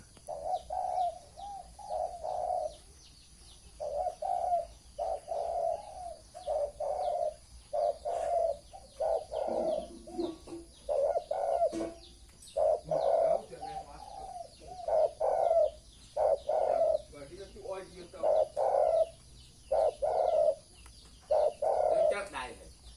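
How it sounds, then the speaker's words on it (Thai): Doves coo in repeated soft, rhythmic phrases through a quiet morning, fairly near and steady for the whole stretch, with faint chirps and background noise underneath. "อากาศยามเช้ามาฟังเสียงนกเขาก่อนเด้อ"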